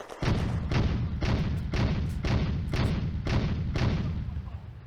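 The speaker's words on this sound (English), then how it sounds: "Moller has located Soviet infantry and fires at them with his machine gun and 2 cm Kampfwagenkanon" Machine gun and 2 cm tank cannon fire in a World War II Eastern Front video game, heavy evenly spaced thumping shots, about ten in steady rhythm, loud and close.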